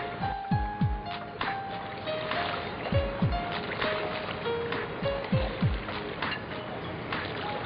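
Sound effect for a children's story of a merchants' boat sailing calmly on water: steady broadband wash with repeated low creaking or rowing swells, continuous throughout.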